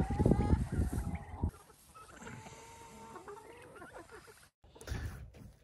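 Turkeys gobble and warble nearby in a loud burst, then keep up softer gobbling calls with a faint voice in the background.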